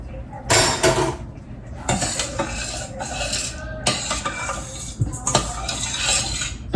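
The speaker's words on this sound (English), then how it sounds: "Let this saute just a minute." Pasta e ceci ingredients sautéing in a pan, with a utensil clinking and scraping against the metal in irregular bursts over a steady low sizzle.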